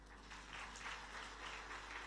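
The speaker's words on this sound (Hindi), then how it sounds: "आपने ताली तो बजाई, लेकिन समझ आई बात?" Audience applause at a Srimad Bhagavat Katha religious discourse, a steady wash of many hands clapping, moderately loud and continuous, with rhythmic swells throughout.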